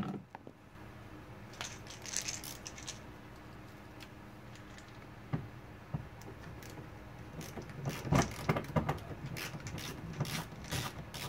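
A screw is backed out of a door panel on a 2016 fourth-generation Toyota Prius, heard as scattered small clicks and ticks, quiet and close, with no talking.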